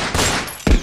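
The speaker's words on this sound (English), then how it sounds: "I heard gunshots." Steady rainfall in the video game Starfield with a low rumble underneath, an even hiss of falling drops and no voices.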